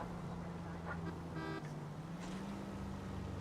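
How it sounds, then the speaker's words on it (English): A brief police siren horn toots once in the video game L.A. Noire, amid a quiet background of engine hum and faint traffic noise. "Note to self, don't honk police siren horn."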